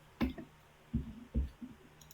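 A computer mouse clicks while a file is saved in AutoCAD, giving four or five soft, quick clicks in a quiet room, grouped in close pairs.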